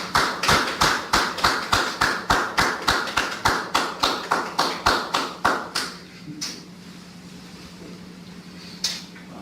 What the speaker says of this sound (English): The sarcastic clap was a nice touch.